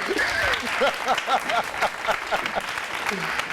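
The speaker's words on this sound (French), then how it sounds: "Acclamation pour elle, s'il vous plaît." Audience at a French-language talk show applauding a guest, clapping mixed with cheers and whoops while a voice briefly calls out over the crowd.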